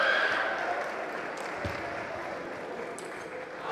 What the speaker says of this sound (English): It's the loudest cheer of the week so far.